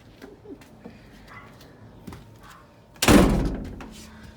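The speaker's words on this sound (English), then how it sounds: "I'm gonna slam the doors" A door slammed hard once, a loud close thud after a few faint background knocks, standing alone with no talk.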